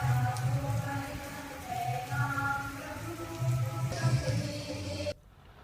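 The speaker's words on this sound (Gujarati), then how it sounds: "વેરાવળ સૂત્રાપાડામાં ધીમી ધારે વરસાદ શરૂ થયો છે" Light monsoon rain falls in Veraval, a steady dense patter on surfaces, fairly close and even, ending abruptly near the finish.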